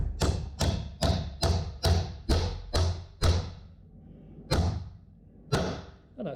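A wooden castellated beehive super joint is struck hard to seat it: seven quick, heavy wooden thuds in an even rhythm, a short pause, then two more spaced blows, close and clear with nothing else heard.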